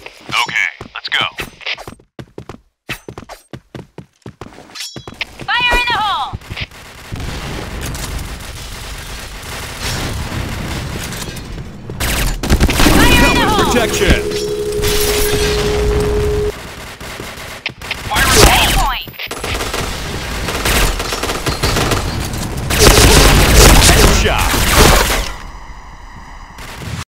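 Rapid gunfire bursts and single shots ring out in the Point Blank first-person shooter game, loud and close, mixed with game voice announcements and a sustained tone partway through.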